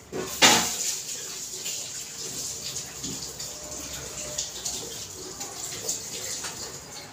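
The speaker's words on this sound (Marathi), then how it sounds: "तर मी जरा हात धुवून घेते" Water runs steadily from a tap, a close, continuous rush with a sharp splash near the start, like hands being rinsed under the stream.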